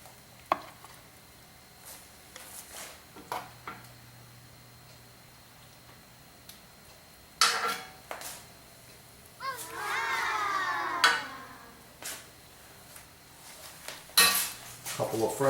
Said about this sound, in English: Plating up the beef stew